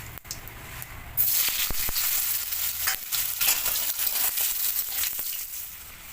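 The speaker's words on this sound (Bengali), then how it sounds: "এবার দিয়ে দেবো কেটে রাখা আলু।" Cut potatoes drop into hot oil already seasoned with cumin seeds and bay leaf, setting off a loud, steady sizzle that holds close and continuous for several seconds after a brief quieter start.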